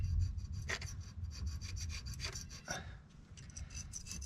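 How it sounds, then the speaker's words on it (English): A razor blade scrapes old gasket material off a Ford Mustang S197 differential cover in repeated short, rasping strokes at close range, with no talking. "if you're going to use a razor blade like this, you got to just be really careful not to scratch the surface too much"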